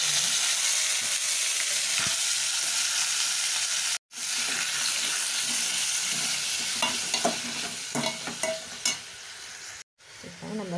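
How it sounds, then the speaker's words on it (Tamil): Chopped onion, tomato and green chili sizzle in a pan for tomato soup, a steady frying hiss broken by scraping stirs and spoon clinks, with two brief drops to silence. "வெட்டி வச்சுருக்க வெங்காயம் தக்காளி பச்சை மிளகாவை சேர்த்து நல்லா வதக்கிக்கணும்"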